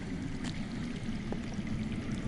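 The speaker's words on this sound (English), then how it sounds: "I hear water. From underground." Water flows steadily underground with a constant pouring, streaming rush and faint trickles. It holds an even level throughout, heard alone with no talking.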